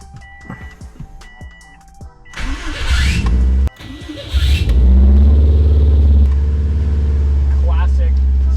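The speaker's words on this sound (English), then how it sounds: "Classic starter squeal." A Subaru STI engine cranks with a short starter squeal, then catches and settles into a loud, steady rumbling idle up close, with brief revving at the start.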